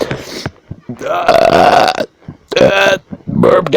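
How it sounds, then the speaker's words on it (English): A person lets out loud, drawn-out burps, several in a row with short breaks between them, close to the microphone. "I'm gonna die while burping."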